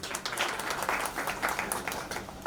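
A crowd at a film trailer launch event claps steadily in a continuous, moderately loud round of applause, with no break in the sound.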